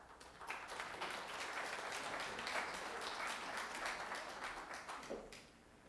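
An audience applauds after a talk on Cincinnati's West End collections, a dense steady wash of clapping from a room full of people that tapers slightly at the end.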